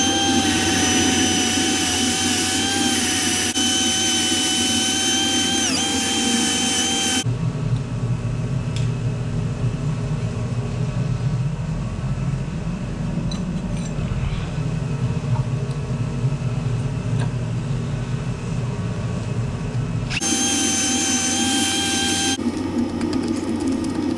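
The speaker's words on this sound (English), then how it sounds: "Let's get the wire wheel on them and clean them up." A wire wheel cleans rusty rear brake parts from a Fiat Ducato, a loud continuous whirring whine that shifts in pitch and body as the parts are pressed against it, close and alone.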